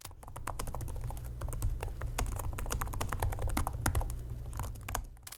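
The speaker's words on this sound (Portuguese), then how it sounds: "É que realmente a digitação é bem rasinha, as teclas são bem baixinhas ali, mas elas são bem durinhas, tá?" Rapid steady typing on the shallow, firm low-profile keys of a Samsung Galaxy Book4 Ultra laptop, a dense run of close clicks lasting several seconds over a low background hum.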